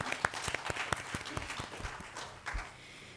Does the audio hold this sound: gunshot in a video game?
no